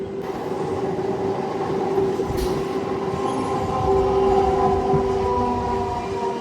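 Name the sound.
Kacheguda–Raichur MEMU passenger train running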